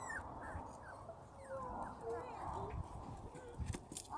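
A four-week-old Texas Heeler puppy whimpers in thin, high, wavering cries, several brief whines scattered through the clip, with a person talking nearby and some shuffling.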